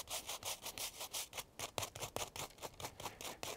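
A nylon brush combs through the roots of a Japanese maple bonsai during repotting, giving a close, quiet, steady bristly scratching in repeated short strokes, with no talk.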